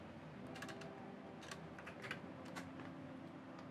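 A computer keyboard is typed on in short, quiet bursts of key clicks, soft and close, with no one speaking.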